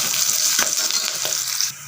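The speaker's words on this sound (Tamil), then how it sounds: "சேர்த்துட்டு நல்லா பச்சை வாசனை போகிற அளவுக்கு வதக்கிக்கோங்க" A ground paste of garlic, pepper and cumin with curry leaves sautés in a pan with a loud, steady sizzle and a few stirring scrapes, then quietens abruptly near the end.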